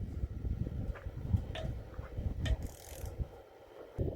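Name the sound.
torque wrench clicking while tightening engine bolts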